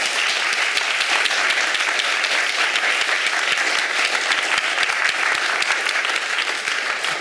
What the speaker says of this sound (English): let's just give them, and everyone here, a roaring round of applause